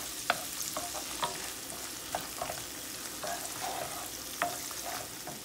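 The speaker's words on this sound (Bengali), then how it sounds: "এখন চিংড়ি মাছগুলোকে একটু ফ্রাই করে নিব।" Small cleaned shrimp frying in a pan, a steady soft sizzle broken by repeated scraping clicks of stirring at a moderate distance, with no talking.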